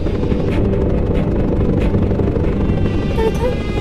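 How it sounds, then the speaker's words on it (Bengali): A helicopter's engine and rotors make a loud, continuous drone with a deep rumbling base that holds steady from start to finish, with no voices over it. "হেলিকপ্টার কেন?"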